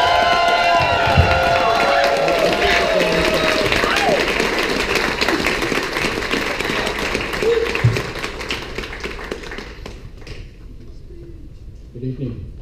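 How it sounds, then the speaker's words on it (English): An audience at the International Community Bootblack 2014 event breaks into loud, sustained applause and cheering, which fades out toward the end. "please give a huge round of applause to your International Community Bootblack 2014, Boy Ed."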